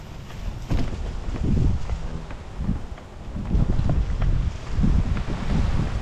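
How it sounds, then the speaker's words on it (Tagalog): Strong wind buffets the microphone in loud, gusting rumbles that rise and fall, with a watery wash of waves underneath. "lakas ng hangin"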